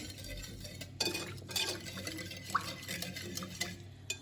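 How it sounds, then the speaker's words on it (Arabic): Liquid ingredients with a sachet of bread yeast being mixed in a glass, giving soft, quiet stirring and light clinks of a utensil against the container, close by, with faint dripping. "نخلطوا المكونات."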